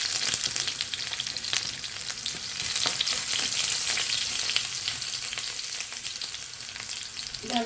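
Garlic frying in hot oil in a home kitchen, a dense, continuous crackling sizzle with sharp pops scattered throughout, close and fairly loud.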